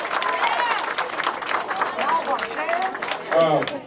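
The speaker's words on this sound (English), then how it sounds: "give everybody a round of applause for the campaign team that worked" A room full of supporters at a Dolton mayoral victory celebration applauds and cheers for the campaign team, steady clapping mixed with whoops and crowd voices, loud and close, without a break for its whole length.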